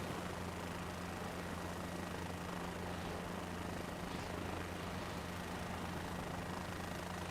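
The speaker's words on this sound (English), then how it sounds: "this little tiny helicopter we got going on." A small helicopter in Microsoft Flight Simulator 2024 drones steadily with a low, even rotor and engine hum, faint and unchanging throughout, with no voices.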